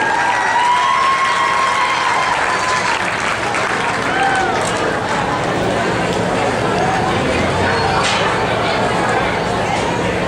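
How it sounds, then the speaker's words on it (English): Loud sustained applause with cheering from a crowd at a livestock show, a dense continuous roar of clapping with whoops and voices mixed in throughout. "Let's give them all a big round of applause."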